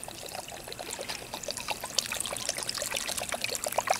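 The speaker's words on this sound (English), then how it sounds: "we're gonna add some more water." Water pours steadily into a cast iron Dutch oven, a continuous trickling splash that stays close and fairly loud throughout, with no voices.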